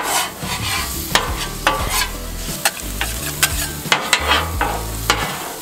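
Ingredients for shrimp fried rice cook down in a pan with a constant sizzle, punctuated by frequent metallic clanks and scrapes of a utensil stirring against the pan, close and loud.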